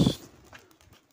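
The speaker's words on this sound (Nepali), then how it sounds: "परेवा यता छ" Pigeons at a temple pond where worshippers offer them, giving a brief, close burst of bird sound at the very start that quickly fades to quiet.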